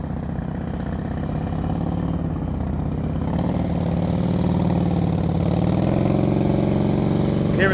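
A motorcycle engine runs steadily at low speed with the throttle held during slow-speed riding practice in Florida, a continuous near mid-pitched drone that holds even throughout, with a faint voice briefly audible.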